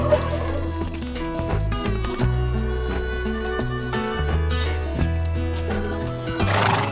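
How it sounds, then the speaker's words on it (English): A horse neighs and whinnies on a farm, a loud, close call repeated over a busy backdrop of clip-clopping hooves and drips. "What sound does a horse make? Neigh!"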